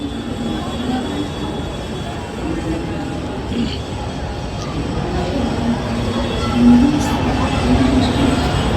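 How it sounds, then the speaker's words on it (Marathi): A train stands at a platform at Chhatrapati Shivaji Maharaj Terminus in Mumbai, its low rumble and station hum continuing throughout and rising slightly toward the end. "ही बघा ट्रेन लागलेली आहे"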